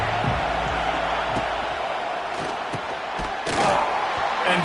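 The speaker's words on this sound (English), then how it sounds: "This crowd ready to make its presence known." A stadium crowd roars in the College Football 26 video game, a dense continuous wall of cheering with scattered thuds, loud and swelling near the end.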